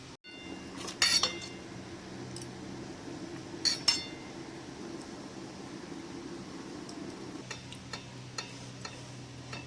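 Faint clinks of a spoon against dishes as fish curry is served into a tiffin box, a few sharp taps scattered over a low background hum in a quiet kitchen.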